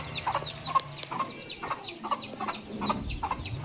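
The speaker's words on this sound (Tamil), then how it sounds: "இந்த தாய் கோழியில் பார்த்தோன்னா ஒரு 6-7 குஞ்சு போல் நிற்கிது" A mother hen and her brood of about six or seven chicks cluck and peep together in a farmyard, with repeated soft clucks and high chirps running steadily throughout.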